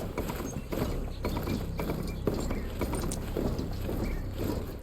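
A mount's hooves pound a rhythmic clip-clop while riding in Horizon Forbidden West, close and steady beneath a layer of ambient game sound.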